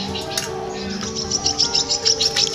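A long-tailed shrike calls in rapid, high chirps repeated against a steady background hum and faint other bird sounds, moderately close and without any talking.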